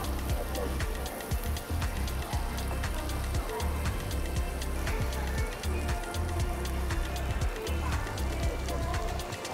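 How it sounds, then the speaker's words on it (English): Slices of meat sizzle while cooking in butter on a hot plate at a Bangkok butter buffet, a steady crackling, spattering hiss with dense popping that runs throughout at moderate volume. "Slices of meat, drenched, cooked in butter."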